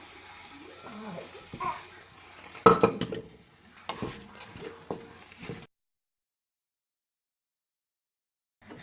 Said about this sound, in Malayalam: ഇനി ഇതിലേക്ക് നമുക്ക് വേവിച്ച് വെച്ചിരിക്കുന്ന വൻപയർ ഇട്ട് മിക്സ് ചെയ്യാം